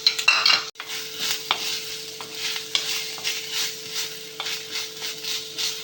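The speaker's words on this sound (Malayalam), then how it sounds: "ഇതിലേക്ക് നമ്മൾ സവോള ഇട്ട് കൊടുക്കാം" Sliced onions frying in oil in a pan over low flame with curry leaves, a steady close sizzle broken by repeated scraping stirs of a utensil against the pan.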